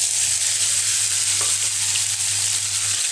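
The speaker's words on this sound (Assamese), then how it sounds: "এতিয়া তেল গৰম হৈ গৈছে, আৰু তেলত দিম মই এয়া সৰিয়হ। এতিয়া দি দিছোঁ মই এই কাচৰিখিনি" Kachri slices frying in hot oil with mustard seeds in a Rajasthani-style pan dish, a loud, steady, bright sizzle with a low hum beneath and a faint crackle midway, no voices.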